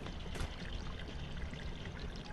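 Water leaking in the game Hello Neighbor, a steady hissing pour or trickle running continuously at low level, with no voices.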